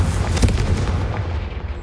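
A Confringo blast spell explodes in Hogwarts Legacy, a single loud booming burst near the start that trails off into rumbling decay.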